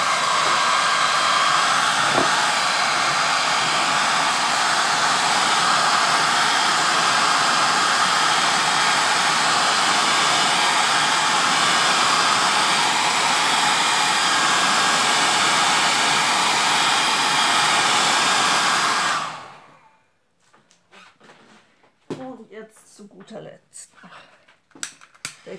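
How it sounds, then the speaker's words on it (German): A hair dryer blows over a wet acrylic pour painting with a loud, steady hiss for about nineteen seconds, then cuts off, leaving only faint clicks and handling noises. "der Föhn."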